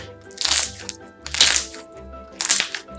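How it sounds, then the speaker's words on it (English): Soft serve slime pops and clicks in three close bursts of crackly snaps, each about half a second long, with brief quiet gaps between them. "And it's very poppy, very clicky."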